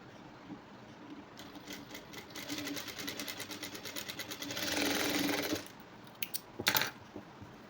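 A sewing machine stitches a tuck into a saree blouse, running in a steady rapid whir for a few seconds, rising to a louder burst before stopping, with faint clicks of handling afterward.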